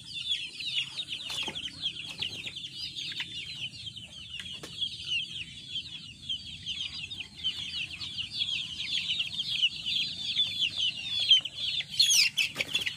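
Tornado hatch chickens of the Mt. Banahaw line clucking and chattering continuously nearby, with a few sharp calls and faint wing flaps toward the end, no talking.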